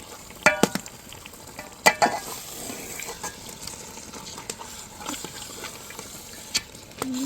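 A ladle stirs fish through masala in a pan for a village-style fish curry, giving soft scraping clinks and a low, steady sizzle with a few sharper knocks early on.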